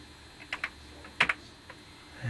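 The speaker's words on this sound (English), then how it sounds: "So I'm just going to type run" A handful of crisp, separate key presses on a Commodore VIC-20 computer keyboard tap out close and fairly quiet, spaced unevenly with a low background hiss.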